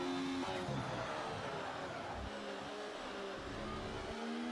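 Racing cars in the F1 24 video game at the Austria round, engines whining and shifting in overlapping tonal lines with gear changes and revving, fairly faint and steady, with no voices.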